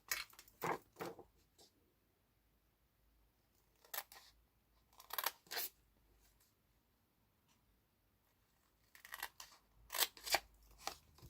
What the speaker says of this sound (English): where you've got these four corners that are obvious now that you've scored the acetate, you're simply going to cut those away